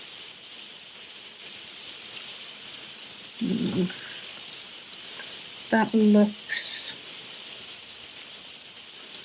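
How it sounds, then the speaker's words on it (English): Steady rain hisses throughout at a soft, even level, with a few brief words and short noises breaking in partway through. "I really do love the sound of the rain."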